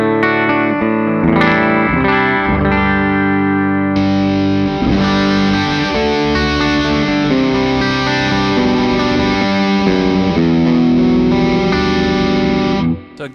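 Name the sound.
clean Music Man JP15 guitar through Aqua Lung overdrive pedal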